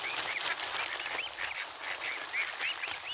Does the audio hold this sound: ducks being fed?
yes